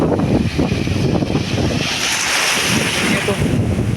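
Sea waves break and wash steadily against a rocky shore, a continuous roaring surf with heavy wind buffeting the microphone throughout.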